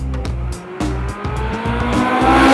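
A Ferrari 458 Speciale lapping the Fiorano test track, its engine loud and close with a strong, rising howl broken by several quick gear changes, under steady tire and road roar.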